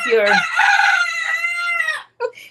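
A rooster crows loudly and close by in the morning, one long drawn-out cock-a-doodle-doo followed by a couple of short clucks.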